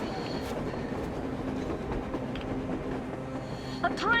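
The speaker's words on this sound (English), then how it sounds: "A damn train on the surface!" A train rolls past on the surface in the post-apocalyptic game Metro Exodus, a loud steady rumble with rhythmic clattering of wheels and a brief metallic squeal near the end.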